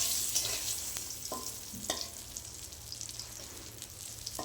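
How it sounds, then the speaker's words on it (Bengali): Eggplant slices fry in a pan of oil with a steady, close crackling sizzle and occasional louder pops or stirring scrapes, with no voices. "তারপর আবার আমি বেগুন ভাজা বসিয়েছি"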